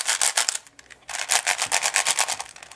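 Rapid, smooth plastic clicking and rubbing of a ShengShou 5x5 puzzle cube being turned quickly, a dense run of soft ratcheting strokes with a brief pause.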